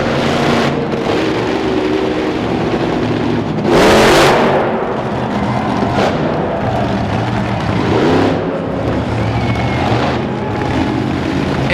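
Devin Jones' race truck roars at an outdoor motorsports track in Kansas City during a wheelie competition, its engine revving loud and continuous with sharp surges in pitch, heard up close from an onboard camera.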